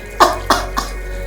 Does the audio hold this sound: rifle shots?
no